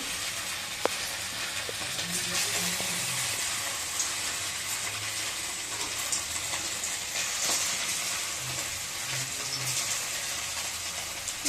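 Chicken pakoras slide one by one into hot oil and deep fry with a continuous bright hiss, plus a few soft bubbling pops and a clink or two, steady and close, without speech.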